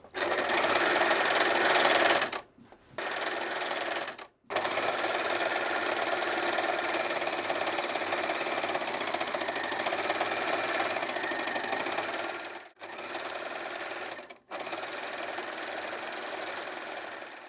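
An overlocker sewing machine runs in long steady bursts of rapid mechanical stitching, close and loud, with a few brief pauses between runs and no talk.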